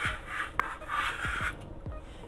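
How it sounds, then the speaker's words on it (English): A knife blade scraping minced garlic across a wooden cutting board in a home kitchen, a few short rasping strokes with one sharp tap midway, close and clear. "scooch all the garlic off, scoop it up here,"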